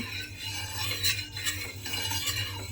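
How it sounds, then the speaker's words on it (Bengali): A utensil spreads mustard oil across a griddle pan with soft, close scraping and swishing strokes repeated in a loose rhythm over a faint low hum. "এবারে চাটুর গায়ে তেলটাকে খুব ভালোভাবে লাগিয়ে দেব"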